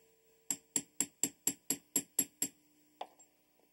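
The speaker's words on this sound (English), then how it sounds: "Take a regular center punch that's about the size of the rivet." Ten sharp metallic hammer strikes on a center punch staking a rivet on a Smith & Wesson firing pin retaining pin, landing in a fast steady rhythm, then a pause and one final lighter tap, close and clear in a quiet workshop.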